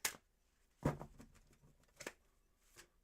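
A deck of playing cards being shuffled, heard as a few separate, quiet riffling bursts with short pauses between them and no talking.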